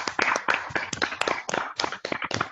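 Members of an online club meeting clap together over their microphones, a cluster of sharp, uneven claps close to the mic with a few overlapping bursts and brief murmurs.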